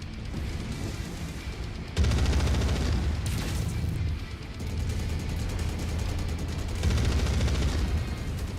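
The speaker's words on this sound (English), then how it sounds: "Oh, just a full barrage right on his arm." Heavy weapon barrage in the MechWarrior 5: Mercenaries video game, a dense roar of overlapping booms and gunfire that swells sharply after the first two seconds and keeps pounding loudly throughout.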